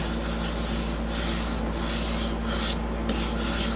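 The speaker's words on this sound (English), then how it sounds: "And now I think it's time to sand." A spalted maple bowl is sanded with a continuous, even abrasive rubbing that holds steady and close for several seconds under a low constant hum.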